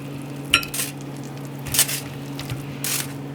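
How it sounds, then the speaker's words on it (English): Sausage and leek salad being tossed in a bowl, with a few soft squishy stirs and light utensil clicks spaced apart over a faint steady hum, fairly quiet and close. "Now we're gonna mix it all together."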